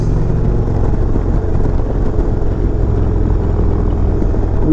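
A 2020 Indian Chieftain Limited motorcycle engine runs steadily while riding: a loud, close, continuous low rumble with wind noise that holds even throughout, with no voices.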